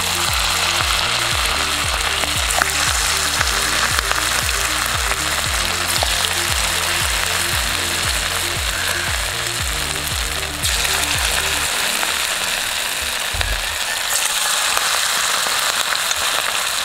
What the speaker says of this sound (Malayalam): എണ്ണ നന്നായിട്ട് ചൂടായിട്ടുണ്ട് നമുക്ക് ഇനി നമ്മുടെ മിക്സ് കുറേശ്ശെ കുറേശ്ശെ ഈ ചിക്കൻ പീസ് തന്നെ പെറുക്കി പെറുക്കി ഇട്ട് കൊടുക്കണം